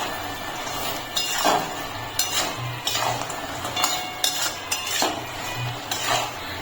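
Palm gaja sweets stirred in hot sugar syrup in a pan, a metal spoon scraping and knocking against the pan in repeated strokes over a soft bubbling hiss, close and clear.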